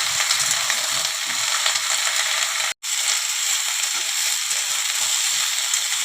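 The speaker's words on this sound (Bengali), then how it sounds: "একটু হলুদ দিয়ে ফুলকপিগুলোকে ভেজে নেব।" Cauliflower frying with turmeric in a pan, giving a steady bright hiss of sizzling oil throughout with a very brief dropout partway through.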